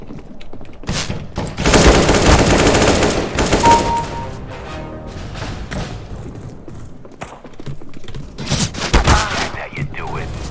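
Counter-Strike gunfire comes in a rapid, loud burst of automatic shots during the first few seconds, followed by scattered thuds and more shots, with some talking mixed in.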